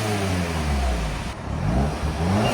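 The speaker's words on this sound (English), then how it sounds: "You hear more of the blow-up valve than anything else." A 2012 Audi TTS with a 2.0L turbo engine revs up and down up close, its engine tone rising and falling with a brief hiss from the blow-off valve between pulls.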